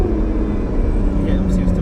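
A twin turbo Acura NSX engine idles with a steady low rumble close by, while a voice murmurs over it.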